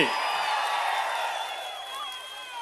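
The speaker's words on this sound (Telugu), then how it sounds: "గట్టిగా చప్పట్లు కొట్టారు" Crowd at an outdoor political public meeting cheering and whooping in a broad, loud wash that slowly fades across the moment, with scattered clapping inside the roar and a voice mixed in.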